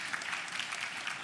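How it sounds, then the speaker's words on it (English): Audience applause for panelists at an ASEAN creative culture industries conference, a brief, steady patter of many hands clapping at moderate distance, fairly soft, with no talk over it. "So please give big applause to them."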